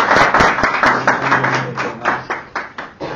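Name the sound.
audience applause for the speaker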